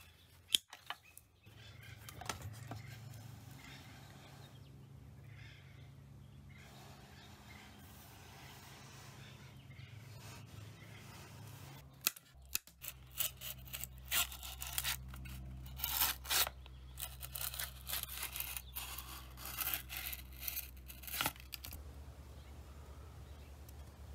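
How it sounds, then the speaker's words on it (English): Pre-finished maple edge banding tape being trimmed by hand, with soft scraping and snipping rubs that grow busier and louder in the second half, close by and without talk. "take my edge banding tape, stick it on these, and then trim it off so it looks nice and natural"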